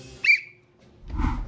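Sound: whistle blown as a signal to spin around

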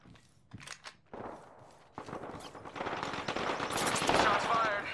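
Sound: gunfire in the video game Apex Legends

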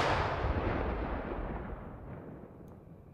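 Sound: layered artillery gunshot sound effect with shells dropping

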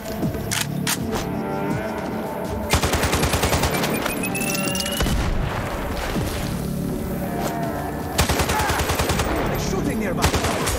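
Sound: gunfire in the video game Sniper Ghost Warrior Contracts 2

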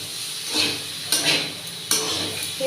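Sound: frying potatoes and onion stalks in a pan

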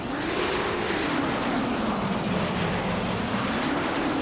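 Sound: hovering VTOL jet aircraft in video game Saints Row: The Third

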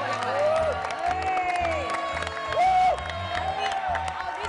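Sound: audience applause and cheering

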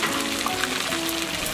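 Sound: shengjian pan-fried buns frying in a pan

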